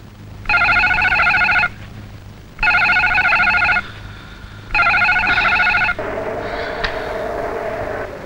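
A telephone rings close by in three long trilling bursts separated by short silences, then cuts off as quieter background sound follows, with no talking.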